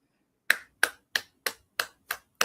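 Seven single hand claps, small and crisp, evenly spaced about a third of a second apart, close to the mic with silence between each.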